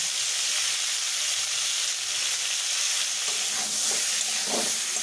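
Cauliflower pieces fry in hot oil with salt and turmeric, giving a loud, steady, hissing sizzle that continues without a break, with a few faint stirring sounds near the end.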